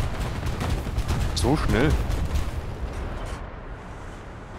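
Tank cannon fire in the War Thunder tank game with a T-34-85 (D-5T), sharp booming shots and impacts over rumbling engine noise while someone speaks briefly in the middle.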